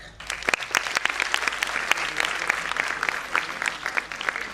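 A hall audience applauds Padma Shri and Khel Ratna awardee Dr. Deepa Malik at a school welcome ceremony, with steady, close, crisp clapping throughout and individual sharp claps standing out.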